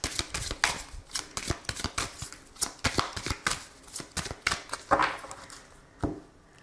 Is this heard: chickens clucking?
no